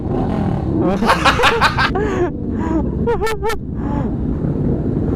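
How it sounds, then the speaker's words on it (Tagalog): A motorcycle engine with a loud aftermarket exhaust revs in bursts on a charity ride, its pitch rising and falling, with wind buffeting the microphone and a few voices mixed in. "Yung tunog ng motor ko, halo-halo na."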